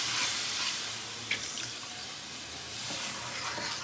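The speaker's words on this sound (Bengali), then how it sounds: "এখন ঝোল দিয়ে দিব আলু মাংসটা সিদ্ধ হওয়ার জন্য" Broth poured into a potato and meat curry, a steady rushing pour with a faint sizzle underneath, close and unbroken for several seconds.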